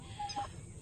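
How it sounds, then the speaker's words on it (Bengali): A few short, soft clucks from a native village chicken, fairly quiet against low background noise. "দেশি মুরগি এগুলো সব দেশি মুরগি"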